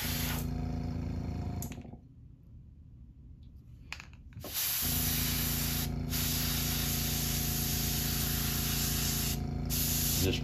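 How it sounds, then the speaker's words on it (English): Lemon yellow spray paint hisses onto a paper towel while a crankbait is being painted: a loud, steady spray that stops for about three seconds, then resumes and continues without a break. "Just spraying it on a paper towel,"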